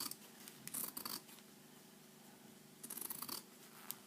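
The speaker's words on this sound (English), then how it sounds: "And I'm going to take my scissors and just trim off the excess." Scissors snipping fabric around a Clover yo-yo maker, a few quiet close cutting bursts separated by a pause, with no talking.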